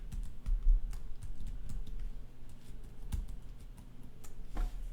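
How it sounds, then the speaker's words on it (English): Light, quick keystrokes on a computer keyboard, a steady patter of soft clicks over a low background hum with no voices. "I'm just going to type some nonsense at the end"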